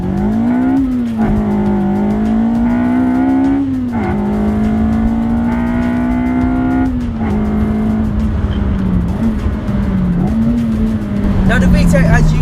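A 270bhp naturally aspirated Honda EP3 engine revving hard up toward its high VTEC range, a loud climbing engine note that dips at each gear change and pulls again, recorded from inside with a voice talking over it.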